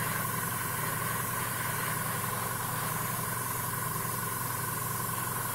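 Tamiya matte lacquer hisses steadily from a spray can onto a 1:35 scale GAZ Tigr model, a continuous even spray held at close range with no pauses.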